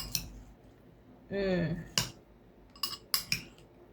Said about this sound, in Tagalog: Ihalo-halo lang natin yung madaming avocado.